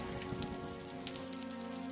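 Steady rain falls in an animated cartoon scene, a dense continuous hiss of drops pattering on surfaces, loud and even throughout with a faint tonal hum underneath and no talking.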